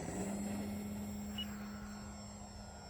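A 3D-printed RC Sportster model airplane, motor mounts printed in ASA, flies over a grass field; its electric motor makes a steady, moderately distant drone with a constant whine that holds evenly and fades slightly toward the end.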